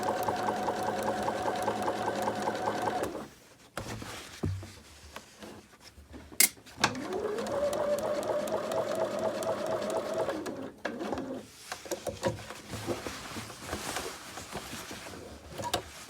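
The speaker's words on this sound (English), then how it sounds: "So just sew along your pocket like this." A sewing machine stitches a back pocket onto a pair of trousers, its steady rapid needle chatter running loud and close in two long bursts, with a short pause and a brief handling knock between them.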